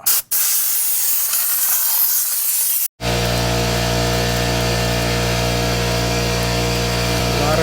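Compressed air hisses steadily as it blows dirt out of a BMW M4 Competition CSF oil cooler, a loud continuous rush with a brief gap near the start and another short break before it resumes.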